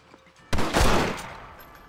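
Gunfire in the Western video game Red Dead Redemption, a single loud burst that erupts sharply partway through and then trails off in a lingering rumble, with no one speaking during it.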